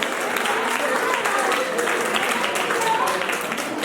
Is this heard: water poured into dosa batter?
no